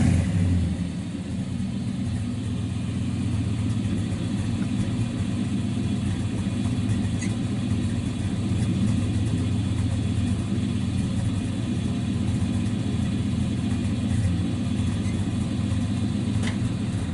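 A 1956 Chevrolet Bel Air two-door hardtop with dual exhausts runs at a steady low rumble close by, holding an even idle for about seventeen seconds with no voices.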